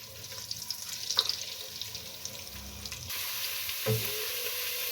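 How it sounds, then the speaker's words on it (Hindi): Garlic ginger paste frying in melted butter and oil for dal makhani, a soft, steady sizzle with faint clinks from the pan, the hiss growing slightly brighter and denser partway through. "लहसुन अदरक पेस्ट को इसके अंदर फ्राई कर लें"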